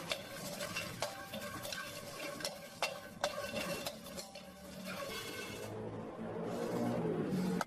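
Star anise and fennel seeds stirred in a hot pan just taken off the heat, giving close, dry scraping and rattling with a few sharp clicks of the spoon against the pan, no talking.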